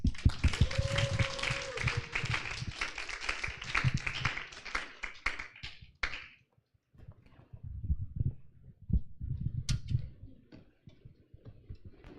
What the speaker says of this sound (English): give him a very big round of applause